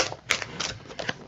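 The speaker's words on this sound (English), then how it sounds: "giving this a good shuffle." A deck of cards being given a good shuffle, a quick run of crisp riffling clicks and flutters close by, quiet and with no talk.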